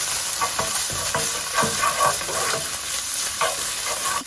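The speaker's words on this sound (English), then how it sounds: "I'm going to add 2 teaspoons of ginger and garlic paste and cook for a few seconds." Ginger and garlic paste fries in a pan for an egg curry, a loud continuous sizzle with rhythmic scraping strokes of a spoon stirring every half second or so.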